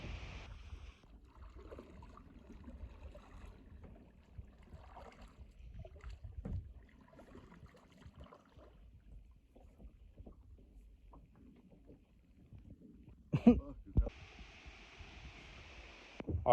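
A kayak moves on a river, with a soft, low wash of water and paddling, faint wind buffeting on the microphone, and a few louder splashes and knocks near the end.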